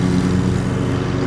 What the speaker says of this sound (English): because of the John Deere tractor behind us mowing the lawn